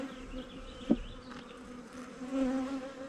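Honey bees buzz around a beekeeper working an open hive, a soft, wavering hum close by with a brief louder bump near the start, and no voices.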